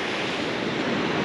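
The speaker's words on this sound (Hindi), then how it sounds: "पीछे पानी की आवाज़ आ रही होगी आप लोगों को" The Ul River, glacier-fed water coming down from the mountains in Rajgundha Valley, Himachal: a dense, steady roar of rushing water, loud and close with no break.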